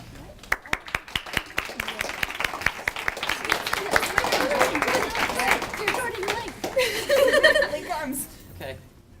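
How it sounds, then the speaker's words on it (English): Audience clapping for storytellers at a story slam event in a school library, starting as sharp scattered claps that build into steady applause mixed with chuckles and laughter, with voices rising near the end. "I'm going to have all of the storytellers come up so we can applaud your efforts."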